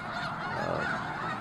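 Large flock of snow geese honking at Bosque del Apache refuge, a dense overlapping chorus of calls held at a steady level from near and far, with no voices.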